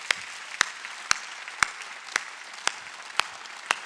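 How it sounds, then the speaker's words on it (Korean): Sharp, evenly spaced claps ring out at a church service, about eight loud single hits in a steady rhythm, roughly two per second, over a quiet background. "다 해결한 거 박수 치려고."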